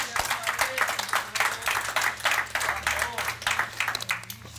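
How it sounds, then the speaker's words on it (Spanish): A church congregation applauds in a bilingual service, with loud, rhythmic clapping in quick bursts and voices mixed in. "Denle un fuerte aplauso."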